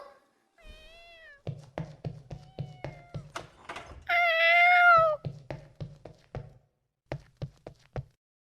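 A cat meows a few times, one long drawn-out yowl in the middle, over a steady series of sharp knocks or taps.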